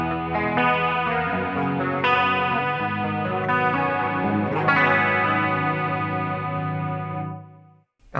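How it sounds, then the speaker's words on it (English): Clean guitar arpeggios run through a Fractal FM3 on Cygnus firmware, layered with lush chorus. Ringing picked notes sustain continuously and loudly for about seven seconds, then cut off abruptly, with no voices. "And I love that chorus upon chorus there."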